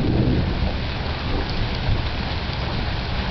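Heavy thunderstorm over Riverside, California: steady loud rain pours on surfaces while deep thunder rumbles continuously underneath, with no voices.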